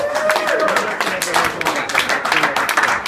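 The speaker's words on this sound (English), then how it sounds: "So let's give a big round of applause for Oscar." Comedy club crowd at the Down-Lo in Chico claps for a comedian named Oscar, a loud, fairly close run of clapping with a few whistles and voices mixed in.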